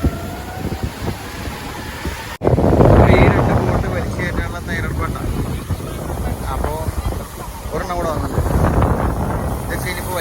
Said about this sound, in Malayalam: ബോട്ടുകളെല്ലാം അവിടെ നിന്ന് ഇങ്ങനെ വന്നുകൊണ്ടേയിരിക്കുക